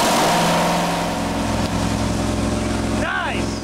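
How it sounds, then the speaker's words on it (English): The original BigFoot monster truck engine, running again after 23 years, holds a loud, steady rumbling idle close up, with a brief rising whine near the end. "We had faith it would run, but that quick fire up was a surprise."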